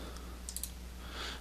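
A few quick computer mouse clicks during a VB.Net menu-strip programming lesson, faint and close, against a low steady room hum with no talking.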